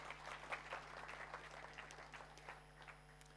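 Audience applause at a presentation fills the room, a sustained, moderately faint patter of many hands clapping with scattered sharper claps and a steady low hum underneath.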